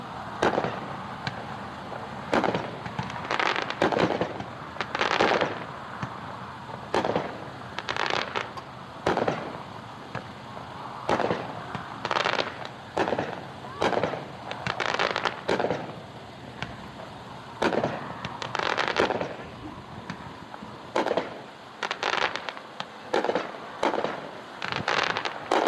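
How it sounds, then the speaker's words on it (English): A Dominator Fireworks Kraken 20-shot firework cake fires outdoors in a steady series of sharp booms and crackling bursts at a moderate distance, with no talking over it. "Kraken is another new one in this year from Dominator Fireworks. It is a 20-shot, 12-1."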